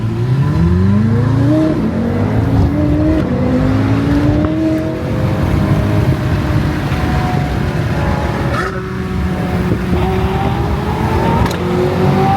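A supercar engine revs and pulls hard while driving in Arizona, its loud pitch rising and falling through repeated gear sweeps, close and continuous with road roar underneath.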